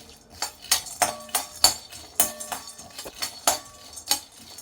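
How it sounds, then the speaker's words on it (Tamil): Peanuts dry roasting in a pan for a healthy burfi, stirred so a spoon scrapes and clinks against the metal in a quick, uneven rhythm of bright knocks, close and fairly loud, with no talking. "அடுத்தது வேர்க்கடலை ஒரு 5 நிமிஷம் வறுக்கணும்"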